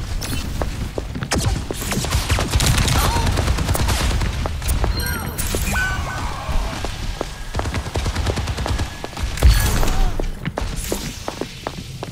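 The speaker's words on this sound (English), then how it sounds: "Rocket barrage incoming." Rapid explosive bursts from a rocket barrage in a shooter video game, a dense volley of loud thuds and booms stacked over continuous game noise, with one heavier blast near the end.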